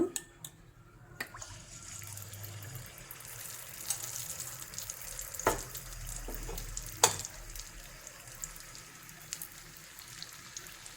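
Rice appam batter frying in hot oil makes a quiet, steady sizzle close to the pan. It is broken by occasional clinks and stirring taps from a utensil, with no one speaking.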